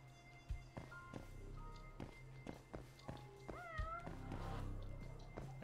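Cat meowing in the video game Judgment, several distinct meows spread over a steady game background with soft taps and footsteps, one rising drawn-out call near the end.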